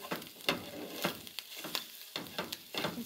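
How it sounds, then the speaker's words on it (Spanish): An egg frying in a pan as it is flipped over, with a steady sizzle broken by several sharp scraping and turning strokes in an uneven rhythm, close by and without talk. "Así volteándolo para que se dore bien, para que esté bien cocinadito."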